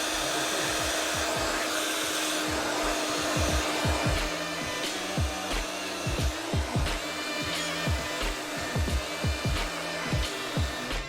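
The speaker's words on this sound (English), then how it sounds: "Now we're going to blow dry with the diffuser." A hair dryer fitted with a diffuser blows a steady loud whirring drone while it dries curly hair, with rhythmic soft thumps and rustles of hair being scrunched running beneath it.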